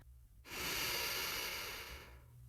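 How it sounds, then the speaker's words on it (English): A single slow, steady exhale of breath, close and soft, swelling for about two seconds with a gentle whooshing hiss, then fading out, alone with no talking. "Take a slow breath with me"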